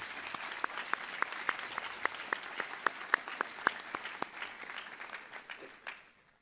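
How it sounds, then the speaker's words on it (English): Audience at a Clinton Prairie high school graduation claps for the graduates' extended families, a steady round of applause with distinct individual claps standing out, fading toward the end. "a round of applause."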